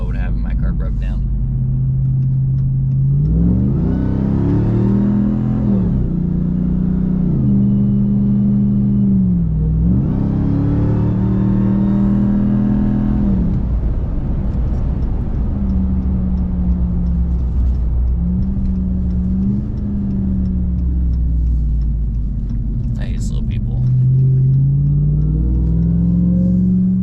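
A 6.2-liter car engine revs repeatedly, loud and close, rising and falling in several long pulls over a deep idling rumble.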